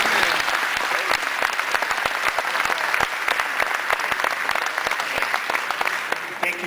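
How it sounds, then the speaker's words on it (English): Steady applause from an audience greeting a director at a new Lincoln penny unveiling ceremony in Springfield, Illinois, dense continuous clapping holding for several seconds before easing slightly at the end. "Let us all give a warm welcome and round of applause for Director Moy"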